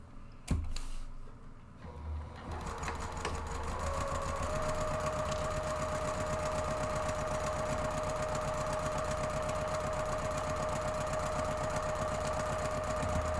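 Sewing machine running steadily for over ten seconds, stitching a seam across the base panel of a fabric purse organizer; a close, continuous motor whir with rapid needle rhythm after a brief start.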